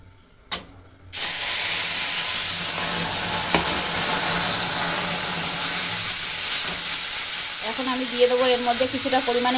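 Spice paste goes into a hot pan with scorched black cumin for a pabda fish curry, setting off a loud, sustained sizzle and hiss right after a brief knock. The sizzle stays close and steady throughout.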